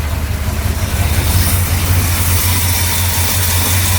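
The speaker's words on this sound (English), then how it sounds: "Just idles nice and smooth" A 1975 Ford Highboy truck engine idles steadily with a deep, even rumble and no revving, nearby and alone for several seconds.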